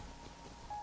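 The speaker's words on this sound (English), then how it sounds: "Once again, just enamored by the rain here." Rain falling in Genshin Impact, a steady broadband patter that stays even and soft throughout, alone with no voices.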